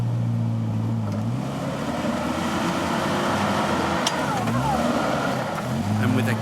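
A Toyota Hilux 4x4 on an off-road trail drift section, its engine droning and shifting pitch as it works through the obstacle, with crowd or commentary voices layered over the steady vehicle noise.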